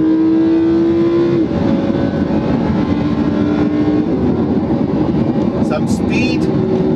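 A Lamborghini Huracan accelerates hard from inside the cabin, its engine a loud, steady drone that climbs gradually in pitch while chasing another car.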